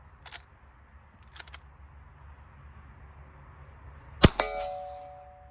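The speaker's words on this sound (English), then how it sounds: "I'm shooting the big gong" A Winchester 1892 lever-action rifle fires outdoors at a big steel gong, giving one sharp distant report followed by a bright metallic clang that rings and decays over about a second. Two fainter clicks come earlier, and no one talks.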